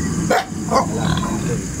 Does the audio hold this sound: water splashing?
no